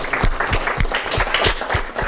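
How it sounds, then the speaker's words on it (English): Close, energetic clapping from a small group at a recognition night, quick rhythmic hand claps filling the moment without any talking. "we're going to give her a round of applause."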